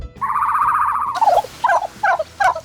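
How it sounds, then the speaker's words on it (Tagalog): A turkey gobbles up close: a warbling rattling call followed by three short, sharp gobbles, loud and clear with no talking. "Ang tunog po ba ng pabo ganito?"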